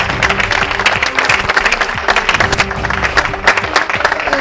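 A studio audience applauds steadily as a guest enters a French-language public-affairs talk show, dense clapping that stays loud and even throughout, with a faint voice underneath.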